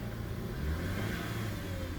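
A Lexus GS350 engine idles after a battery replacement, a low steady rumble with a faint whir, quiet and continuous with no talking.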